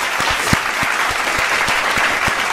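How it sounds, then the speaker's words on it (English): An audience applauds, a dense, steady burst of clapping with a few louder individual claps standing out, continuing at full strength to the end. "Everyone give a round of applause."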